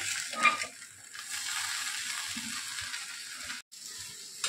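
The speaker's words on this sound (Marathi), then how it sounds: "आणि आता आपण ढवळून घेऊया भाजीला." A potato and okra bhaji sizzles softly in a pan while being stirred, a steady faint frying hiss with light scraping and stirring touches and one brief gap near the end.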